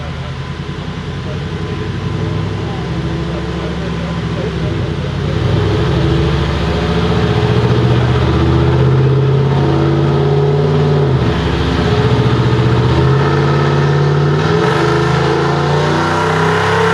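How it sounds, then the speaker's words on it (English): A car engine on a dyno roars continuously under load, a loud, sustained revving drone that climbs and holds across the run, up close with no pauses. "that beast you just saw getting dynoed was Bryant Blakemore"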